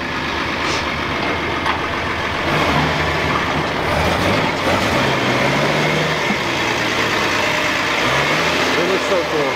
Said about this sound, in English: this thing coming down the road.